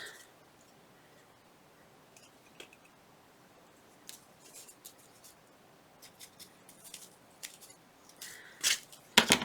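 Scissors snip out small paper scrap pieces for Christmas ephemera, a string of quiet, close, irregular crisp cuts that grow louder and denser toward the end.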